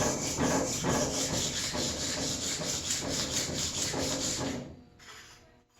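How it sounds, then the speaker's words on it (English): Rust being wiped and rubbed off the iron of an old block plane, a close, steady abrasive scrubbing in quick back-and-forth strokes that stops abruptly near the end. "See if I can just wipe it one more time. Get most of the rust off of this too."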